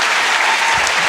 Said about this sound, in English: So a big applause for Chase Masterson and Max Grodenchik.